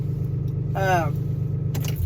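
A hotshot pickup truck's engine idles with a steady, low rumble close by, and a voice is briefly heard over it.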